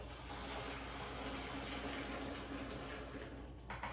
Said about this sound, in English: I'm going to rinse this out with tap water two to three times